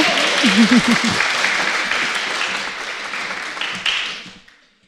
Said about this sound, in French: Un petit peu d'applaudissements pour l'encourager.